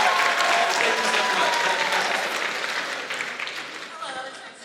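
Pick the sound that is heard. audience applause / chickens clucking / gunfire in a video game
audience applause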